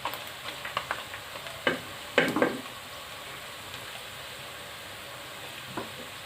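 Beef keema and onions fry quietly in a pan, a soft steady sizzle broken by a few scraping stirs and clinks of a spoon against the metal.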